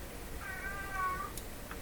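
A cat meows in a drawn-out cry, faint and somewhat distant, heard in a room over steady background hum while someone works on a Harman Kardon hk440 Vxi receiver.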